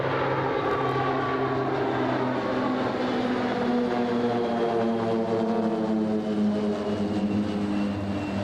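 Two Pilatus PC-7 propeller planes pass in close mirror formation at an air show, a loud steady engine drone with harmonic tones that slowly shift in pitch, continuous throughout.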